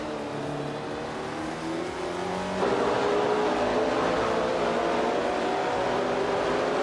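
Race cars, 1966 Matra MS5s, roar steadily in a racing video game, a loud continuous engine drone that rises in pitch as one accelerates and shifts, with faint tire noise and no voices.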